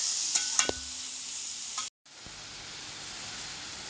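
Onions and green chillies frying in butter for pav bhaji, a steady close sizzle with a few stirring clinks early, a brief cut, then continued sizzling.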